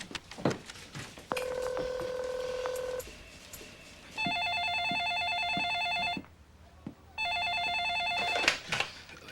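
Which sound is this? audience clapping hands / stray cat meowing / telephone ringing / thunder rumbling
telephone ringing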